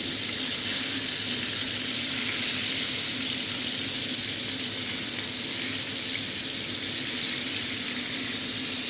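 Fresh sea fish frying in hot oil in a pan, a loud, dense, even sizzle that holds steady and close throughout with no pauses.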